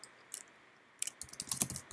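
Someone types a git command on a computer keyboard, a short burst of crisp, close key clicks after a brief pause, with no talking.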